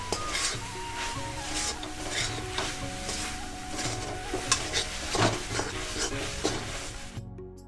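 A coconut filling with a few spoonfuls of milk powder for patisapta is stirred in a pan, a spoon scraping and knocking against the metal in irregular strokes over a soft sizzle, close and unbroken, with no talk.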